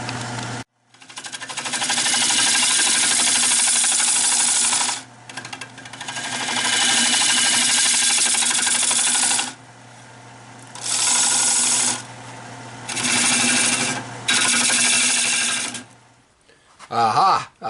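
A woodturning chisel is sharpened against a powered wheel: a steady close motor hum with loud, harsh grinding passes of several seconds each, broken by short pauses, then the motor winds down.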